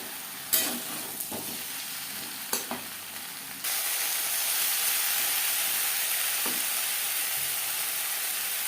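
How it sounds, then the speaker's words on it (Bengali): Potatoes and ridge gourd fry over high to medium flame, with a few scraping stirs in the pan early on, then a louder, steady sizzle that swells and holds to the end. "হাই টু মিডিয়াম ফ্লেমে তিন চার মিনিট নাড়াচাড়া করে নেব"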